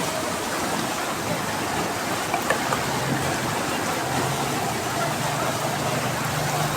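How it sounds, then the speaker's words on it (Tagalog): Strong flood water from a creek rushes and churns continuously in a loud, broadband roar, with a faint low motor hum joining partway through. "Malakas na yung agos mula doon sa creek na tubig"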